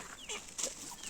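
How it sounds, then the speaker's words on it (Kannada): A village chicken clucking, a few short, faint chirpy clucks close by within about a second. "ಕದ್ದಿರ ಕೋಳಿ ಇದು"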